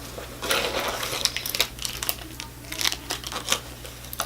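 Paper receipts crinkle and rustle as they are handled inside a Michael Kors purse, a close, irregular run of crisp crackles and crumpling bursts with no talking.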